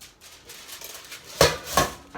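A foil-covered flan dish set down into a flat metal strainer gives two sharp, close metallic clinks in quick succession against a faint background hiss.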